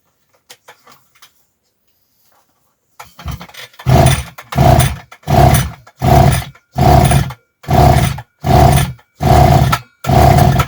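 A Kitprom petrol brush cutter with a new spark plug runs at full throttle with the choke open, while its carburetor is flooding. After a few faint taps, the engine roars loudly and close in regular pulsing bursts with short gaps between them.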